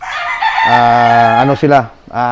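Imported yellow-legged gamefowl roosters crow loudly and close, one drawn-out harmonic call breaking into rough clucking notes, then another crow starting, with no talk over it.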